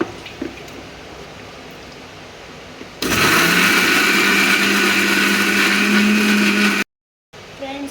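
A mixer grinder blends garlic cloves and green chillies for a spicy chutney, kicking in abruptly with a loud steady whirring roar that holds for about four seconds, cuts off briefly, then resumes.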